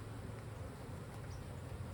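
Honey bees buzzing around a beekeeper's veil during a hive inspection, a faint steady droning hum under a bed of background noise, with no speech.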